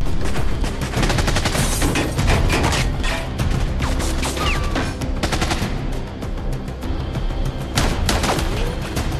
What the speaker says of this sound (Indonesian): Terjadilah baku tembak yang sengit.